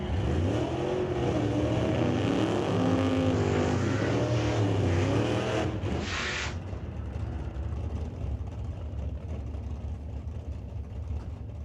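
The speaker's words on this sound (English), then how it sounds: "Pontiac leaves a little bit early" A Pontiac drag car launches down the strip at an old-time drag racing event in Langley, its engine revving loud and rising in pitch, then fading away into the distance.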